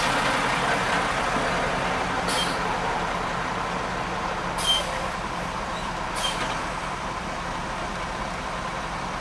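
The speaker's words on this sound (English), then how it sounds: "We have a big truck right alongside of us that says Gulf Harvesting, Belda, Florida" A big truck from Gulf Harvesting of Belda, Florida rolls alongside on Route 27, its steady road roar filling the scene with a few brief high hissing bursts, without talk.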